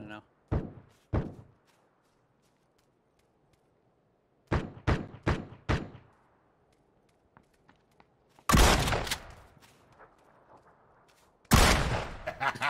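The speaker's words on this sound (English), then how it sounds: "He's shooting at you?" Gunfire in the video game PUBG comes in several bursts of sharp shots: two early reports, a quick run of four, then two longer loud volleys. People talk between the bursts.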